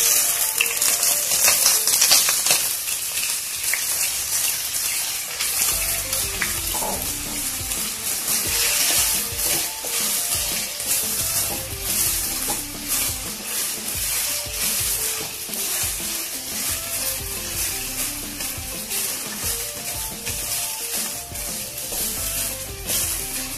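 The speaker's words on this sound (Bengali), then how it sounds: "এখন আমি তেলের মধ্যে চালগুলো দিয়ে একটু ভেজে নিব।" Rice grains fry in three tablespoons of hot mustard oil in a pan for chicken tehari, giving a loud, steady sizzle with scraping stirs throughout and no talking.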